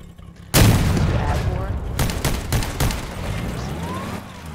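A tank cannon mounted on a bus fires in a video game: one sudden loud boom with a rumbling tail, followed by a few sharp shot cracks over continuous engine and driving noise.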